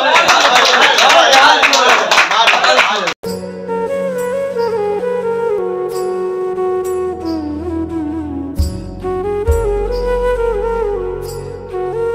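Dense, lively clapping from an audience at a late-night gathering of friends with poetry and laughter, loud and close for about three seconds before it stops abruptly and tuneful music with sustained tones takes over.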